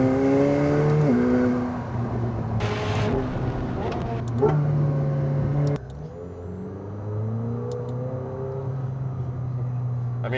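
McLaren 750S engine revving and accelerating, heard from inside the car on track with the window down, rising and falling engine pitch through gear changes, loud and continuous.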